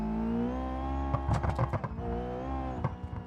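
A drag car engine in BeamNG.drive revs and accelerates on an uneven road, a humming engine tone broken by short bursts of louder revving, with no talking.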